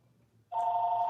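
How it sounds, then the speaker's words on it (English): A phone begins ringing partway through, a steady, loud electronic ring that holds unbroken to the end over a quiet background hum, with no talking. "Oh, getting a phone call."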